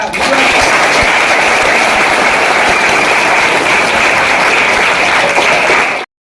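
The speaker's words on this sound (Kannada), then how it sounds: "ನಿಮ್ಮೆಲ್ಲರ ಜೋರಾದ ಚಪ್ಪಾಳೆ ಮೂಲಕ" Loud, dense applause from a school audience at a teachers' event in Pavagada, sustained steadily for about six seconds before stopping abruptly.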